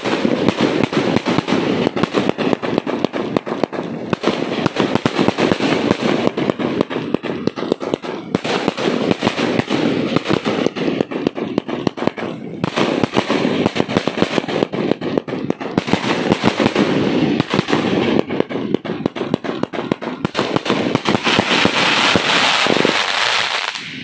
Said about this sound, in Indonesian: Jadi ini adalah mercon terbesar